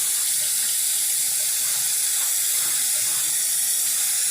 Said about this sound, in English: We wash with only water, guys.